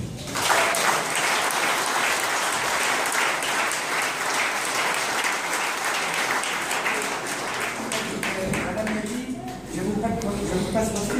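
A church congregation applauds and acclaims Jesus with loud, sustained clapping that fills the room, mixed with raised voices, and begins to thin out near the end.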